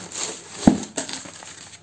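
Paper handled while unboxing an Alesis V25 MIDI keyboard: soft crinkling with a couple of sharp rustles close up, brief and fairly quiet.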